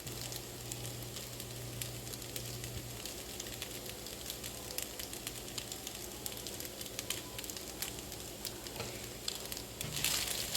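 Vegetarian fried rice cooking in a pan, giving off a steady, moderately quiet sizzle with a fine crackle and light pattering pops throughout, and no voices over it.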